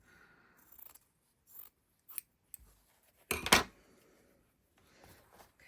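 Scissors trimming a fabric mending patch, a few quiet separate snips and one louder cut, close in an otherwise quiet room.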